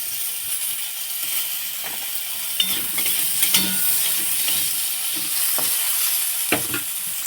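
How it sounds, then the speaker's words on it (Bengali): Thin-cut potatoes fry in hot oil with a steady, close sizzle and hiss, broken by occasional clinks and scrapes of stirring; no one speaks. "এবারে যে আলুগুলো সরু সরু করে কেটে নিয়েছিলাম সেগুলো একটু হালকা ভেজে তুলে নেব।"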